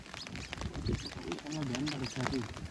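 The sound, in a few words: birds calling near a fishing net in rain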